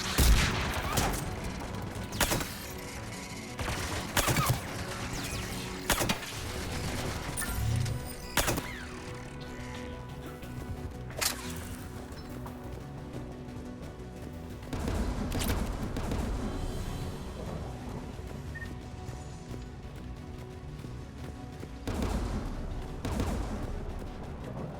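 Anti-aircraft guns blasting in Mass Effect 3 during a Geth Dreadnought mission, a series of loud, sharp booming shots at irregular intervals over a constant mechanical hum and rumble.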